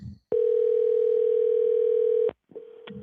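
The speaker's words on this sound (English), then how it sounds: "It's still ringing in the background there." An outgoing telephone call rings back with one long, steady electronic tone lasting about two seconds, followed by a brief gap and a quieter, fainter tone.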